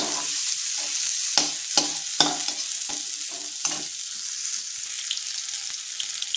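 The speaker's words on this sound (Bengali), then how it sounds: "যতক্ষণ না লাল হবে ততক্ষণ এটাকে আমি নাড়াচাড়া করবো।" Browning food fries in oil while a spoon repeatedly scrapes and stirs the pan, sharp clacks over a steady close sizzle that grows calmer toward the end.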